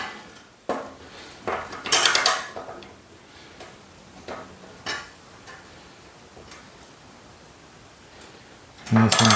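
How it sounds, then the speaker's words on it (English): A small vice grip clamps a metal piece onto a socket while making a paw print dog leash hanger from metal: a few sharp, close metallic clanks and clinks spread apart, ending in a louder rattle. "just clamp the piece of metal onto the socket with the little vice grip"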